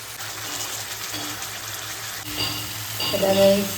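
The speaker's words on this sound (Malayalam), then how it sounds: "നമുക്ക് വറ്റിയിട്ട് നമുക്ക് ചിക്കൻ ഇട്ട് കൊടുക്കാം." Chicken pieces sizzling as they go into a pan of reduced masala for shawaya, a steady frying hiss that swells louder with stirring near the end.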